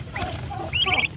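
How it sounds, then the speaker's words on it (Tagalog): One-month-old turkey chicks calling: a few high, thin peeping calls close by, clearest near the end, over a low steady background hum. "Ito na nga po ang ating mga pabo,"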